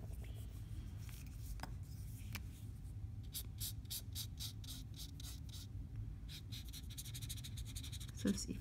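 Tim Holtz Distress markers colouring paper images, quiet close scratchy strokes in quick rhythmic runs with brief pauses between, over low room hum.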